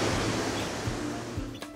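Steady broadband rush of Burney Falls in California, a continuous close roar with a few faint splashes, no voices.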